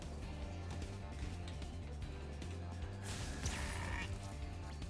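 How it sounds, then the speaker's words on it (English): Sheep bleat in the video game Spyro 2: Ripto's Rage, several overlapping bleats over a steady game music loop, with a brighter burst of effects near the end. "You knocked those sheep right out of the sky."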